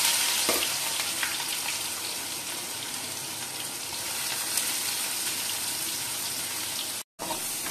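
Onions fry in mustard oil with whole spices in a wok, a steady close hiss and crackle with a few faint stirring clicks, cut off briefly near the end.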